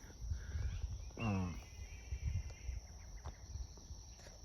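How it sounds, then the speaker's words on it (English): A red-tailed hawk gives a single harsh, descending squawk, clear and fairly close, over a low rumble of wind and outdoor ambience by a creek bed. "There's a red-tailed hawk."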